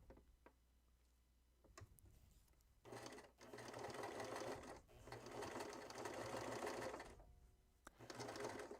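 A sewing machine stitches stretchy, sticky fabric with polyester thread and no walking foot, running slowly in several bursts separated by short pauses, close and clear with no talking.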